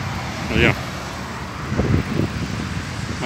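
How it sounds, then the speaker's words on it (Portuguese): Cars drive along a city avenue beside Ibirapuera Park in São Paulo, a faint steady traffic rumble with wind noise and a couple of vehicles swelling past, under someone talking. "Aí vindo esses carros, tá vindo do centro."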